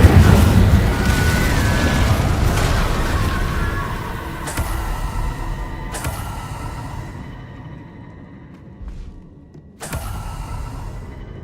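Spell blasts and fire in the video game Hogwarts Legacy, with loud booming bursts over a dense roaring rumble and a few sharp cracks spaced several seconds apart, no voices.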